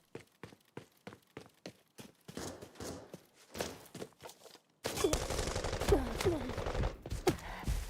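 Gunfire in a video game: a spaced series of sharp, distinct shots, then a denser, louder stretch of overlapping blasts and clatter.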